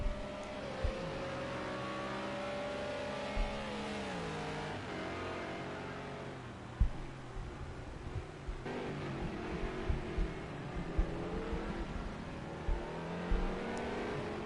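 Race cars roar through a corner in Project Cars 2, a McLaren sliding through the exit in a European GP league race; engines rev and sweep in pitch with gear changes, several cars close together, with steady engine drone throughout.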